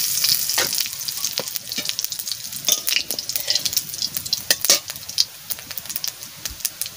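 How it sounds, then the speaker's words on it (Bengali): Cumin seeds sizzle and crackle in hot mustard oil in a pan, a steady close frying hiss with sharp pops scattered throughout, alone without talk. "সরষের তেল দিয়ে দিচ্ছি, করে অল্প করে জিরে দিচ্ছি।"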